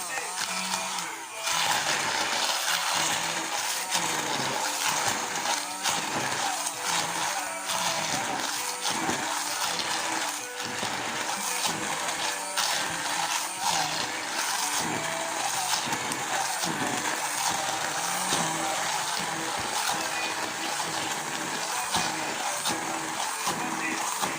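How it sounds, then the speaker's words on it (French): Immersion blender blending smoked chicken broth, a continuous loud whirring drone with a busy, slightly fluctuating texture that runs almost the whole time without stopping. "donc je prends mon mixeur plongeur"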